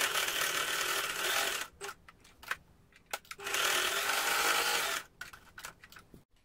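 A sewing machine stitches fabric for a washable paper towel, two sustained bursts of fast mechanical whirring separated by short pauses with small clicks as the presser foot is lifted and lowered.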